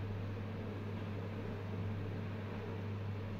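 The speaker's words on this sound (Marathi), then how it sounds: "आता तेल ठेवलं छान गरम झालेलं आहे, आता तळून घ्यायचं।" Chili peppers stuffed with masala fry in hot oil, a faint, steady sizzle over a low continuous hum, with no voices.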